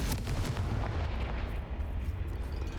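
Confringo fire spell blasting in Hogwarts Legacy, a loud booming burst with rumbling, crackling explosive noise that fades over a few seconds.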